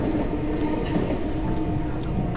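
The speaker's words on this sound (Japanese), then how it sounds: "見えました。 奥の方に江ノ電が走っています。" An Enoshima Electric Railway train in Japan rumbles steadily along its tracks, a continuous rolling roar with faint metallic clatter, fairly close and loud throughout.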